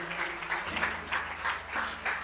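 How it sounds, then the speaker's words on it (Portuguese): A church congregation applauds together, clapping in rhythmic swells that rise and fall roughly every half second, with a low sustained tone under the crowd. "Eu gostaria que vocês aplaudissem ao Senhor o mais forte possível."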